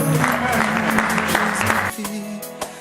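A congregation at a church service applauds and cheers in praise. Dense, continuous clapping runs under a voice and then thins out abruptly near the end.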